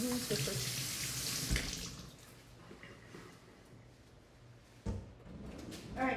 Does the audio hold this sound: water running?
yes